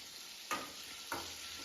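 Chicken fries in oil for Malabar biryani, a quiet continuous sizzle punctuated by two distinct stirring scrapes about half a second apart, with no talking.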